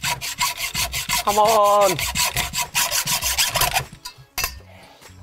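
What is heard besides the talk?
hacksaw cutting a steering lock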